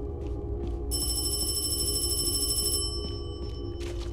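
A telephone rings with a loud electronic trill lasting a couple of seconds amid a steady low hum, in a ghost-hunting horror game set in Hong Kong.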